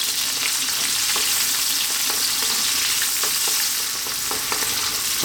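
Onion frying in a pan over lively high heat for an eggplant chickpea curry, a dense, close crackling sizzle with scattered pops and stirring scrapes, steady throughout with no voices.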